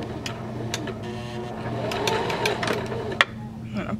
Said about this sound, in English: put your foot on the pedal, and the machine will do all the work for you.